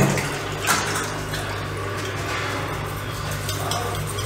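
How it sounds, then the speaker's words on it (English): Water running steadily through a disassembled HVLP paint spray gun as it is rinsed out, a continuous close splashing wash with a brief louder gush near the start. "Rinse it all the way through."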